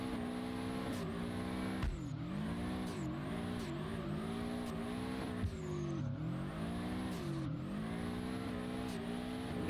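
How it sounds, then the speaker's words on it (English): A boxer engine car in the Drift21 racing game revs hard and continuously, its pitch rising and dropping sharply with repeated throttle blips and gear shifts, loud and close throughout with faint tire noise and no talk. "Okay, the engine sounds really good."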